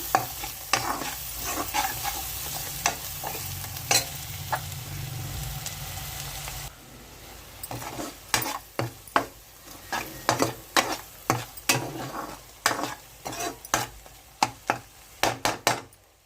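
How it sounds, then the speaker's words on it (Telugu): A spoon stirring a dry fish and egg curry with chilli powder in a frying pan, sharp rhythmic scraping strokes over a soft sizzle, repeated steadily and close, quickening in the second half. "బాగా కలుపుకుందాము"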